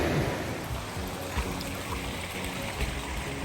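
Wolf Creek Falls stream flowing near the trailhead, a soft continuous rushing and trickling of water, moderately close and steady, with no voices.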